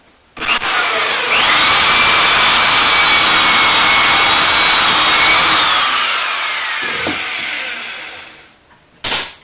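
A power drill runs loud and close for several seconds while boring pocket holes through a mini pocket hole jig clamped to a cut face frame, winding down near the end before a brief final burst.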